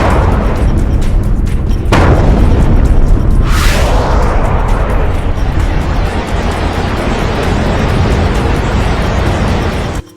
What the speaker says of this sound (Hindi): इजराइल में ईरानी मिसाइलों की बौछार